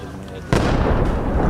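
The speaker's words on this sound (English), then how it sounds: "The latest target, Beirut's southern suburbs, pounded in a wave of explosions on what reporters called a very violent night." A loud explosion blast in Beirut's southern suburbs on a violent night of strikes, a sudden heavy boom that rolls into sustained rumbling and crackling after a quieter stretch.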